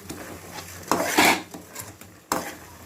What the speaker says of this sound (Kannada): ಈಗ ಇದನ್ನು ಒಂದು ಸತಿ ಎಲ್ಲ ಹೀಗೆ ಕಲಿಸ್ಕೊಂಡು